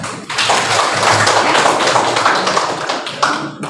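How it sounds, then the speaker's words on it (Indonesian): Classroom applause, a dense steady patter of many hands clapping together, sustained at a fairly loud level for several seconds. "kasih aplaus"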